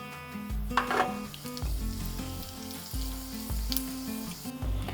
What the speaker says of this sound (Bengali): বেশ ভালো করে ফাটতে শুরু করেছে।